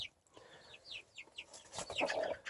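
Young chickens cluck and peep in quick, soft bursts as they try to perch in a coop in Antalya, several birds close by with no talking.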